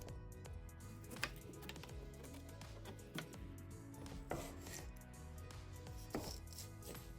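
A knife chops through a tough broccoli stem on a cutting board while a broccoli stir-fry is being prepared. The cuts come as sharp, distinct knocks a second or more apart, near and fairly quiet, and no one speaks.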